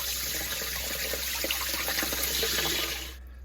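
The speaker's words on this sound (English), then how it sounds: "So that's me draining out the water." Water rushes and splashes steadily out of a Haier washing machine's drain, loud and close, then abruptly tapers off into quiet.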